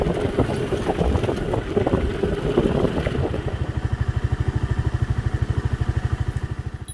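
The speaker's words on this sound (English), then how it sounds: "This is where riding the Big Ruckus really comes in handy. Speeds up these little gravel roads." Honda Big Ruckus scooter ridden over gravel roads, its engine droning with gravel clatter, then settling into a steady, close, rapidly pulsing putter as it runs along.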